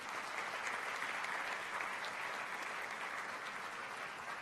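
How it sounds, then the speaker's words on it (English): Sustained applause from a convocation audience greeting the former President of India as chief guest, dense steady clapping filling the hall at even volume throughout. "Can we hear a round of applause for him?"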